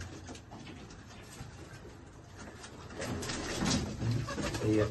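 Pigeons at a home loft coo in soft, low, throaty bursts that grow louder toward the end, close by over a faint background of rustling.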